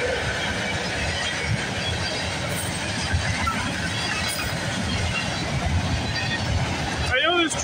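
Norfolk Southern 15M freight train with double BNSF locomotives and scrap cars rolls past at Bayview Road, a steady loud rumble of wheels and rail noise throughout, with a squeal near the end.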